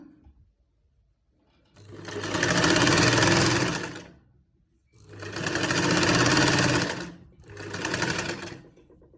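Sewing machine stitching a garment sleeve, heard as three close, loud bursts of steady mechanical whirring separated by short pauses, with no talking.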